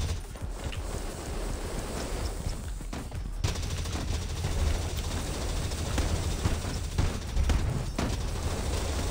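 Gunfire rattles through a Dino Squad game match, loud bursts of repeated shots over a steady noisy background, with a few sharper cracks standing out and no talk.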